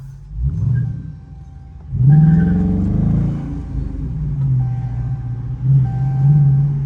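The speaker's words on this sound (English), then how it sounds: "Shit down there sound like it had a supercharger just now." Engine whine with a supercharger-like character from an RT car being driven, a steady rumbling drone with tonal whine and rising revs, close and fairly loud with no talk.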